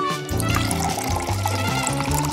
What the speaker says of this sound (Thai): เทน้ำลงในขวดอีกขวด